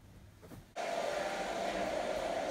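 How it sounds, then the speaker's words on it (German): A household vacuum cleaner switches on abruptly and then runs with a steady loud whine and airy roar, continuous to the end after a quieter moment. "Und der Staubsauger läuft jetzt."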